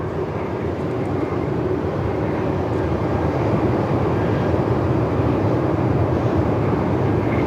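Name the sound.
Velocity passenger plane taking off from runway 34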